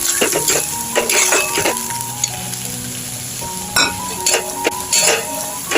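Poppy seeds fry with browned onions in a pan, giving a loud close sizzle broken by repeated clinks and scrapes of a metal spoon stirring against the pan.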